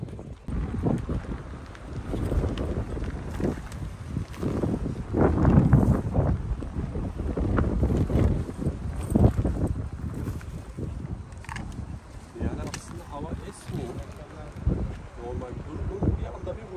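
Strong wind at a seaside campsite in Akbük, Muğla, roaring and gusting loudly against the microphone with flapping bursts, while people talk throughout.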